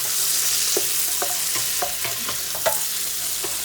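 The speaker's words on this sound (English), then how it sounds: "Now I'm going to add in our carrots, our celery, our onion, and our fennel right into our stock pot. Give that a little stir." Carrots, celery, onion and fennel sizzle in a stock pot over medium heat while being stirred, a close steady hiss broken by repeated soft scraping and clunking strokes of a spoon.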